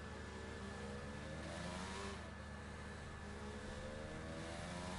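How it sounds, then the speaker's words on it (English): Formula 1 car engine in the F1 2022 racing video game, a continuous high-pitched scream through a corner with steady harmonic whine, loud and sustained with no talk over it. "Maxence Paris, listen to that car go screaming through this corner"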